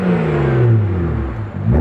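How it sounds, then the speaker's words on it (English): A loud, close BMW 335i twin-turbo engine with catless downpipes revs, its pitch sweeping down as the throttle falls, then climbing again at the end. "I'm gonna rev it right here"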